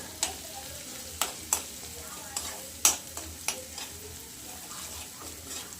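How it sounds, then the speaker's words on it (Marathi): Roasted coconut fries in oil in a pan for a lentil curry, a steady close sizzle broken by several sharp spatula scrapes and taps against the pan. "हे टाकून घेऊ टाकून मस्त तळू द्यायचं"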